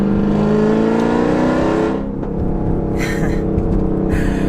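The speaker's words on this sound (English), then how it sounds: "the noises this car makes is phenomenal" 1000-horsepower Jeep Trackhawk engine revving hard, a loud rising roar that drops off after a couple of seconds into a lower rumble with a whining note, heard from close by.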